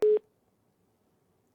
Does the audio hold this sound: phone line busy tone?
yes